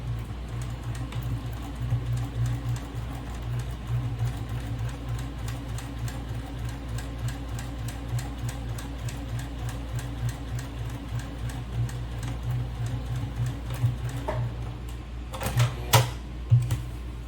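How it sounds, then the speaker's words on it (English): A sewing machine stitches a fabric seam for a bag in a steady, rapid mechanical rhythm that runs throughout, close and moderately loud, with a few sharper clicks near the end. "So I'm going to start to sew."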